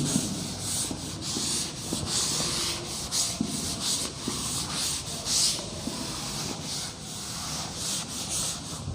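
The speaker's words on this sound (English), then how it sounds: "Okay, I am rubbing this side." Someone steadily rubs chalk writing off a classroom board with a duster. The dry, scraping strokes are continuous and close, with no talking.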